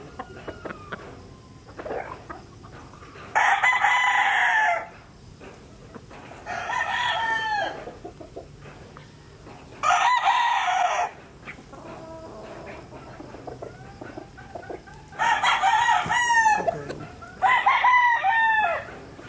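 Gamefowl roosters at a gamefarm crow repeatedly, five loud, close cock-a-doodle-doo calls spaced a few seconds apart, with quieter clucking and farmyard murmur in between.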